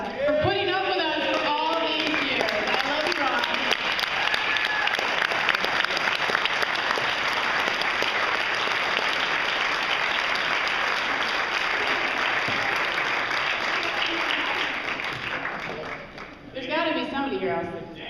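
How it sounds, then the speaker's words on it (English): Retirement party guests giving a long, loud round of applause that swells and holds steady for over ten seconds, with voices at the start and a person speaking again as the clapping fades near the end. "everybody should stand up and give this guy a round of applause"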